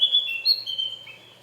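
High, thin warbling song from a caged Javan white-eye, a continuous close run of sweet whistled phrases with no talk.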